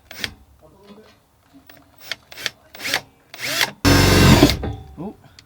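Long drill bit boring holes into a Honda Civic Type R FK8 during roll cage installation, heard as several short loud whirring bursts with pauses, ending in one sustained grinding burst, with brief talk in between.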